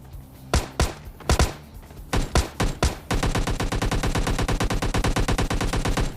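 Gunfire rings out in a PUBG Lite fight between two players: a few scattered loud single shots and short bursts, then a sustained rapid automatic volley, close and dominant with no talk.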